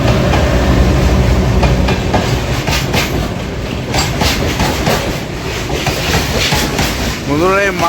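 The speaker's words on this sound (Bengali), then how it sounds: "বন্ধুরা এই মাল ট্রেনের জন্য আমাদেরকে দাঁড়িয়ে করে রেখেছে।" A goods train rolls past a railway station with a loud, close rumble and continuous clickety-clack of wheels over rail joints, and a voice is heard briefly near the end.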